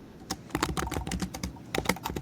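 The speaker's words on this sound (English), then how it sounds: "I wonder if they can hear me typing." Rapid typing on a computer keyboard, a steady patter of close, crisp key clicks with a few louder strikes, no voices.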